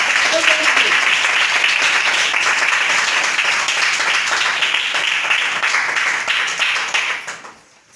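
An audience claps at a Hindi church prayer gathering to welcome a woman pastor, a steady burst of dense applause with some voices underneath that fades out near the end.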